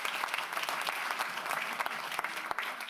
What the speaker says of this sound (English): let's give them a real big round of applause